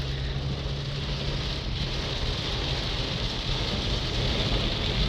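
Heavy rain falls steadily in a continuous dense wash of hiss, loud and even throughout with no voices.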